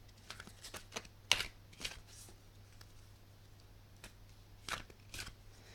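Colour cards being shuffled for a reading, soft close riffles and flicks in scattered short bursts over a quiet hum.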